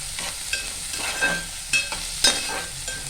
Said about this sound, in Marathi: मग त्यात टाकूया आपण जिरं. मग ते आपण एकत्र असं परतवून घेऊया.